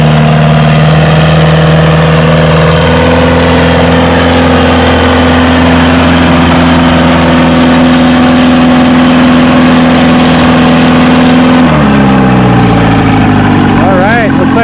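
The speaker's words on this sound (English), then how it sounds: "So yeah, the Ford is the first tractor in that pair." A Ford pulling tractor at a spring tractor pull near Othello, Washington, its engine roaring loud and steady for about twelve seconds before the pitch drops as it winds down, with an announcer talking over it.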